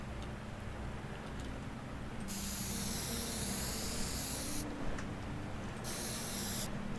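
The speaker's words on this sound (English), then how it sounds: "Can't spray paint the water" Spray paint can hissing in the video game Teardown, three long bursts of steady bright spray separated by short pauses, loud over a low rumbling game background with no talk.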